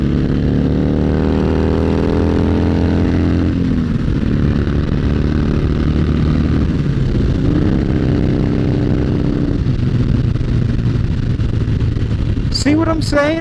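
A motorcycle engine drops two gears for a turn, its loud, close drone falling in pitch through the shifts, then settling as the bike rolls on, with wind buffeting throughout.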